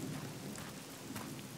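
Rain falls steadily through a cartoon thunderstorm, a soft continuous hiss with low thunder rumbling underneath. It stays faint and fairly even, with no voices.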